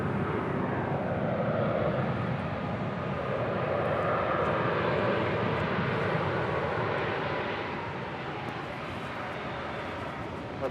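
A United Airlines Airbus A320 departs Los Angeles International Airport for Los Cabos, its jet engines giving a loud, sustained roar that eases slightly toward the end.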